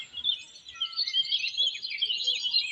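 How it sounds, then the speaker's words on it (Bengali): Cartoon birds chirp outside an old house among trees, a continuous bright twittering of several small tweets layered together, moderately loud with no talking. "পাখিদের কিচিরমিচির আওয়াজ শুনতে"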